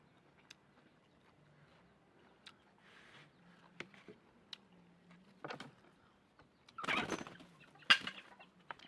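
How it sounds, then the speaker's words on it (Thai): Chickens and a rooster clucking around a Thai rural home where chicken is being grilled, with scattered close clucks and a louder burst of squawking near the end over faint background noise. "ไก่กับพ่อไก่"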